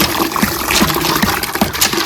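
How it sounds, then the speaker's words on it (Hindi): Water gushes steadily from a newly installed hand pump, a continuous broadband rush with faint rhythmic low thumps, close and loud with no talk over it. "और ये रहा जी इस हैंडपंप का पहला पानी। आप देखें कितना जबरदस्त और भर भर के पानी आ रहा है"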